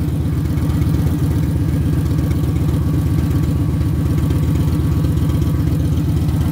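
An air compressor runs on a 2016 Victory Cross Country touring motorcycle, giving a steady, close mechanical whir with a fast pulsing drone that holds evenly throughout, with no talking.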